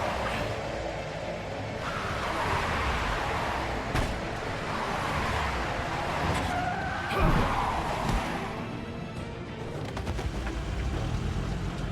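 A car engine roars and tires skid in a video game, a continuous loud driving rumble with a sharp screech and impact around the middle over busy game noise.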